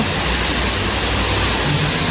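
A waterfall in Thailand roars as a loud, continuous wash of broadband rushing water with no breaks or talk.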